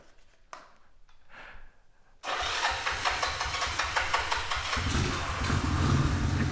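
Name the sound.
motorcycle engine cranking, failing to start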